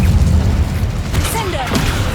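Incendio fire spell cast in the Hogwarts Legacy video game: a loud whooshing blast of flame with a booming low rumble over dense, continuous game sound, ending in brief, faint magical chimes.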